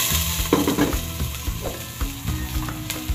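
Ginger and garlic sautéing in a pan for a soup, a loud, busy sizzle broken by repeated scraping and clattering of a utensil stirring against the pan, close up with no voices.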